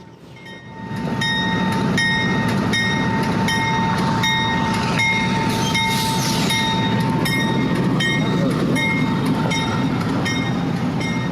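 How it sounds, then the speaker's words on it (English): A train rumbles past close by at Horseshoe Curve, loud and continuous, with rhythmic wheel clatter and high metallic squeals over the heavy roar. "We already got our first moving train."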